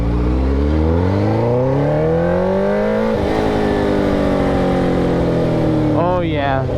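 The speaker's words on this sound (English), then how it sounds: "cackles and pops are definitely in there" A motorcycle with an aftermarket exhaust revs up hard close by, its pitch climbing, then drops off throttle into a crackle of cackles and pops, with a short rise again near the end.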